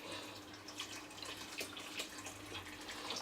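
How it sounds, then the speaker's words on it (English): Hot water pours steadily into a pot of rice for a Guyanese-style rice cookup, making a soft, continuous splashing gurgle close by at low volume. "So I'm just going to pour some hot water into this."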